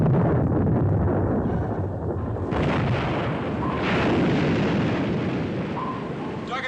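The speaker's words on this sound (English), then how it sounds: "Bombs!" Loud, sustained rumbling explosions from depth charges in a submarine war film, a continuous heavy roar with a fresh surge partway through, heard alone without talk.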